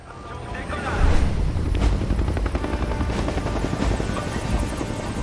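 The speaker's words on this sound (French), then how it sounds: "Les hélicos foncent donc dans l'orage et forcément c'est la merde." Military helicopters roar as they fly into a thunderstorm in the film Kong: Skull Island, a loud, dense rotor wash and engine rumble that swells early and churns on throughout.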